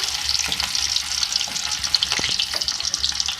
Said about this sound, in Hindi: घी में बघार लगाएंगे